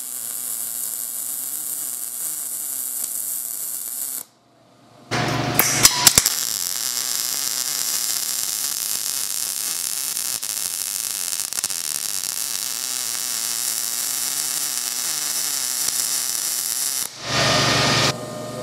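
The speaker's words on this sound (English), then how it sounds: "And we'll see how that will weld for her." MIG welding on thin sheet metal just under 60 thousandths thick, a loud continuous crackling buzz that starts abruptly after a short pause and runs steadily for about twelve seconds before stopping.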